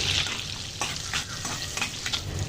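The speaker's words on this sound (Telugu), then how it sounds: "ఫస్ట్ ఆయిల్ వేడెక్కిన తర్వాత దీంట్లో కొంచెము ఒక పది నుంచి పదిహేను కాజు వేయించుకొని పక్కకు తీసేసుకోవాలి" Cashews frying in hot oil and butter for a hotel-style mixed vegetable paneer curry give a steady close sizzle with soft crackles and a few stirring scrapes, no talk over it.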